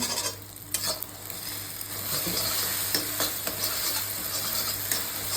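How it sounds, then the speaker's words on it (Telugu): Egg fried rice frying in a hot pan, with steady sizzling and scattered scrapes and clicks as a utensil stirs and turns it, close and fairly loud, no voices. "ఇలా మంచిగా ఫ్రై చేసుకోవాలి."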